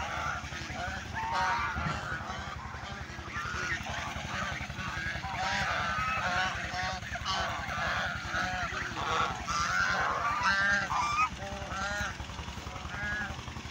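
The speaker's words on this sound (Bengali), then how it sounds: "রাজাহাঁস," Domestic geese honk repeatedly, in busy overlapping calls, beside a village river choked with water hyacinth near rice fields in Nilokkha. The honking is close and steady throughout, over a low background rumble.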